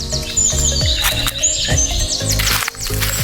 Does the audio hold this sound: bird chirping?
yes